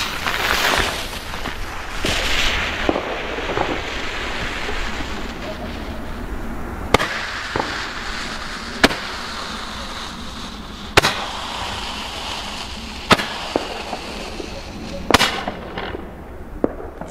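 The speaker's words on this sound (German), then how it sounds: "Ach, wir haben hier sogar noch ein römisches Licht." A roman candle from a Weco Bombette firework assortment fires outdoors, a series of sharp pops and cracks spaced a second or two apart over a steady background hiss and rumble.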